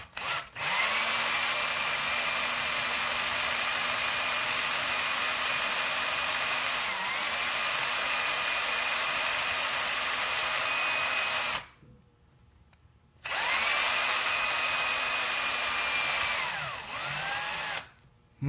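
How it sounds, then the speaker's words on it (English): A drill with a 1/16 inch bit bores through a plastic part of a Ford Louisville truck model kit, a steady high whine running for several seconds, then stopping briefly and starting again. "I'm going to drill right through this."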